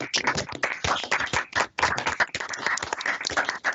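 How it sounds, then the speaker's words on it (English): A group of people clapping together after a round of cheers at a virtual topping-out celebration for the Oceansgate Phase 2 construction project, with dense, energetic applause filling the whole stretch and no talking. "Round of applause, everyone."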